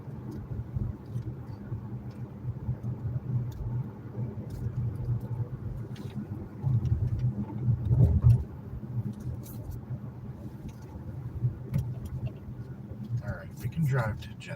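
A car engine rumbles low and steady while driving through the town of Hornell, New York, swelling briefly partway through, with someone talking over it.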